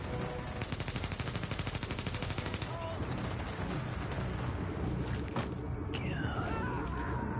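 Rapid, sustained automatic gunfire fills a firefight in Tom Clancy's The Division, dense bursts of shots running almost continuously, loud and close, with a few sharper single cracks near the end.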